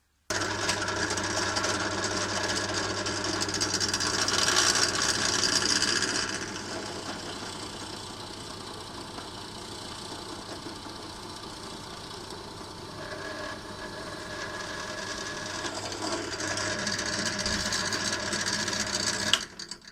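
Steady mechanical whirring and buzzing of a power drill boring dowel holes into a wooden cutting board, running continuously, loud and close, with a brief change in pitch midway and no talk.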